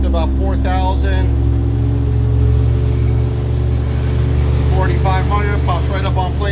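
An outboard engine on a 2012 Easten 24 boat drones loudly and steadily as it throttles up toward about 4,000 rpm, a constant low rumble with water rush, while someone speaks over it at the start and end.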